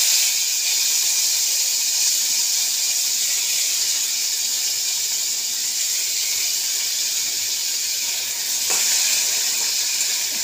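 Ginger sizzles with onions in a hot pan, a steady, close frying hiss that runs unbroken from start to finish with no voices over it.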